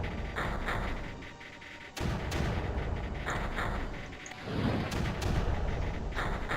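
Artillery firing in the Creeper World video game: several deep, rumbling booms roll out one after another at moderate volume, with no voices over them.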